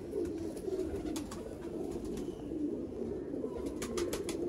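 Red-eyed pigeons coo steadily and close by, a low continuous murmur from several birds with faint higher chirps and scuffs, and no talking.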